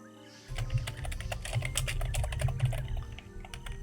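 Rapid, uneven typing on a computer keyboard clatters close and steady for several seconds while a Zelda: Breath of the Wild session is played, beginning after a short quiet moment with a low hum beneath the keys.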